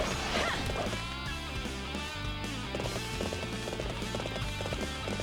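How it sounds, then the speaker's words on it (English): Horse hooves clip-clop through a Dynasty Warriors 7 battle scene, steady galloping beats layered under game music and clashing effects, moderately loud and continuous. "Honey, did you steal my dad's horse?"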